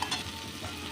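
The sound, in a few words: prawns marinated with salt, turmeric and chili frying in oil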